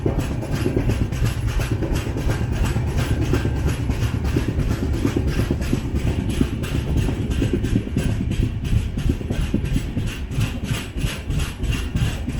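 Kannur Yesvantpur Express train running near Hebbal station, a steady loud rumble with rapid rhythmic clatter of wheels and carriages throughout, no voices.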